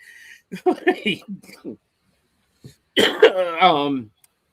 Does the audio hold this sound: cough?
yes